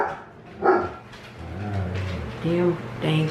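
Dogs bark a few times outdoors, some sharp single barks and a longer yelping bark, at moderate distance over a low background rumble.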